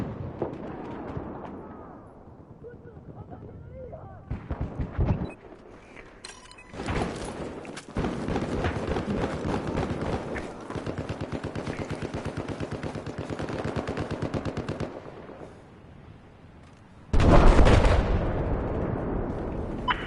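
Battlefield 4 game combat with dense rapid gunfire and booming explosions, loud and close, bursts of automatic fire running continuously with short pauses and a heavy blast near the end.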